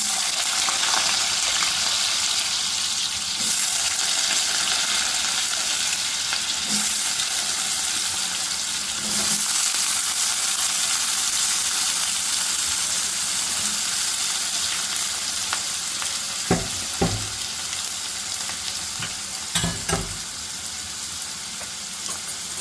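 Potato pieces fry in mustard oil with a spoonful of ghee, giving a steady, even sizzle throughout, with a few utensil clinks against the pan near the end.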